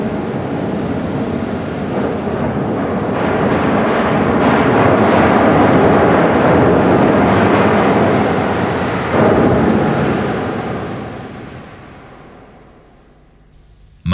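A heavy thunderstorm over a coastal area, with steady loud rain and deep rolling thunder that swells through the middle and then fades toward the end.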